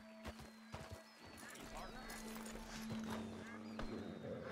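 Hooves clip-clop on a horse in Red Dead Redemption 2, a few distinct knocks near the start, then a steadier trot carrying through a low rumble, with someone talking over it and a brief whinny.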